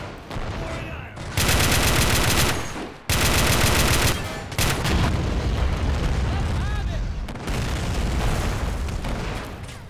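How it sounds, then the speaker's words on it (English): In the Red Rising Iraq War 2003 game mod, tank shells and heavy gunfire go off in loud bursts of booming blasts and rattling fire, close and dense, with someone talking between them. "let's fire another shell"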